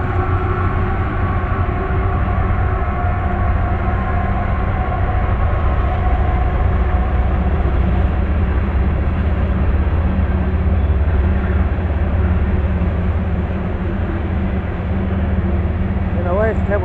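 A CSX Q424 freight train passes eastbound at a rural road crossing in Richmond, Massachusetts, its heavy, steady rumble and grinding wheel noise loud and close throughout, with a brief squeal near the end.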